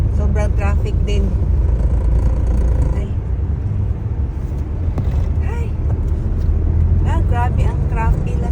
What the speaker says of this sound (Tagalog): Mas marami pang motor kaysa sasakyan. Grabe ang mga motor oh.